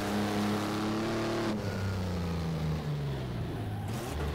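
A 1937 Alfa Romeo 12C race car in the Automobilista sim racing game, lapping the Nürburgring Nordschleife, holds a steady loud engine drone, shifts gear, then pulls with a slowly falling-then-rising pitch under constant road rumble.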